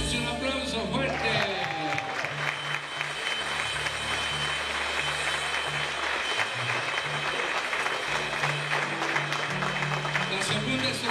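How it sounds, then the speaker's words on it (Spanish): A church congregation claps loudly after a hymn, dense sustained clapping under low musical tones from instruments, filling the whole stretch at an even level. "Dense un aplauso fuerte."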